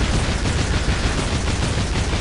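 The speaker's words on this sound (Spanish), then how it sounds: "cacha la explosión" An explosion in the video game Shantae and the Pirate's Curse makes a loud, dense roar of rumbling, crackling noise that stays continuous and close for the whole stretch, with no voices.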